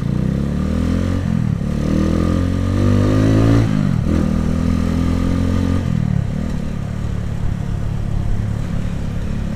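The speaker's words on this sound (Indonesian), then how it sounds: "Suka banget gua sama motor dua tak kayak gitu." A two-stroke Kawasaki Ninja RR motorcycle engine revs loudly and close by, in repeated rising and falling bursts with a rough buzzing tone that carries on throughout, with no talk over it.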